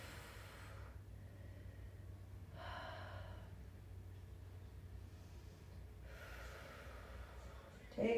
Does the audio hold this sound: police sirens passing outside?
no